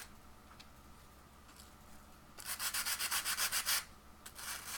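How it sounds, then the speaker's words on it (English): A cosplay wand is sanded by hand in a quick burst of rhythmic back-and-forth strokes, about a dozen close, scratchy rasps, with a few scattered light taps before and a brief resumption at the end. "And sorry if you hate sanding, it's happening."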